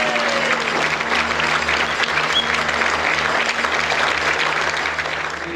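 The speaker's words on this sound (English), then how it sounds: "everyone give me a massive round of applause" Crowd at a Sport Parkinsons Four Nations golf event giving a big round of applause, dense and steady clapping throughout without talk.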